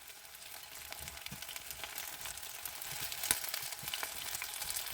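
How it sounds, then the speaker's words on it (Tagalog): Chicken wings fry in hot oil in a pan, a steady soft sizzle and crackle with occasional sharper pops, fairly quiet and close, with no talking. "Iprito ito hanggang maging golden brown."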